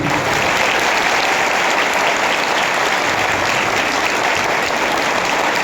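A church congregation applauds the choir on Easter Sunday, a dense, steady wash of many hands clapping close and loud throughout, with no voices standing out.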